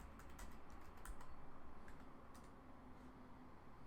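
Fingers tap out a password on a computer keyboard: a quick, light run of faint key clicks over a steady background hum.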